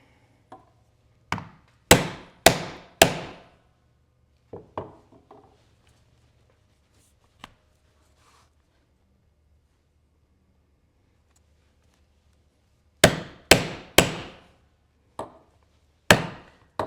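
A 20-tine stitching chisel is driven into 12-ounce leather with sharp hammer strikes, first a run of four, then scattered single knocks and a quiet gap, then another fast cluster, each blow crisp and close.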